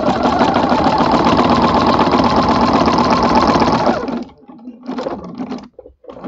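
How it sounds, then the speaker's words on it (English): A sewing machine with a walking foot stitches a quilt in a loud, fast, steady run for about four seconds, then stops, leaving a few short clicks and handling noises. "I'll sew down a couple inches so I can fold that over and show you how it looks."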